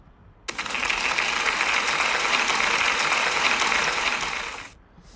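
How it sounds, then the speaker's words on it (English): A burst of applause for a pupil at a school celebration, starting abruptly, holding as a dense steady clatter of many hands for about four seconds, then cutting off. "Can we give Jennifer a big round of applause?"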